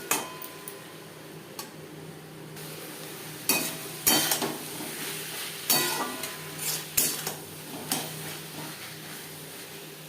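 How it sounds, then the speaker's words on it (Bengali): Spices, salt and turmeric are mixed with onion and tomato in a pan for fish roe chorchori. A spatula scrapes and knocks against the pan in irregular strokes over a faint background sizzle. "লবণ, হলুদ ও মশলা পেঁয়াজ টমেটোর সাথে বেশ ভালো করে মিক্সড করে দেবো।"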